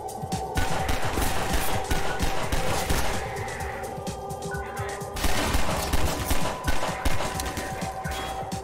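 Automatic gunfire in Half-Life 2 VR, rapid sustained bursts of shots with short gaps between volleys, loud and close amid crashing impact noise, no talking over it.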